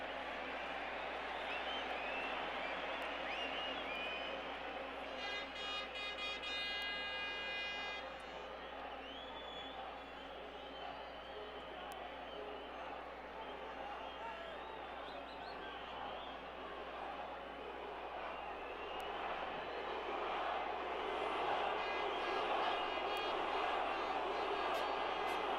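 Stadium crowd at a 2003 Gold Cup football match between Mexico and Brazil, a steady roar of cheering and murmur sustained throughout with brief whistle-like tones partway through.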